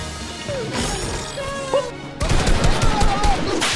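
Pistol gunfire in a video game: sharp, loud shot bursts crack out in quick clusters over a busy, noisy game soundscape.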